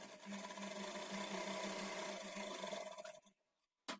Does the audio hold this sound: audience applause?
no